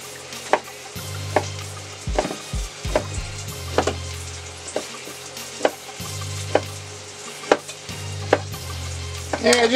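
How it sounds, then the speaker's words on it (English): Knife chopping ham into small cubes on a cutting board for a breakfast casserole: repeated sharp, fairly close chops in uneven bursts over a steady low background hum. "I'm just gonna cut this up into little cubes, about the same size as I did the potatoes"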